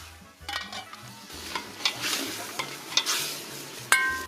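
Meat frying with aromatic spices over high heat in a pot for Kashmiri wazwan gives a moderate sizzle and crackle, with stirring scrapes and a few sharp metallic clinks.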